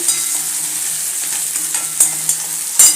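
Finely chopped onion is stirred and sautéed in hot oil in a pan for an okra fry, a steady sizzle with occasional scraping stirs and louder clacks near the end.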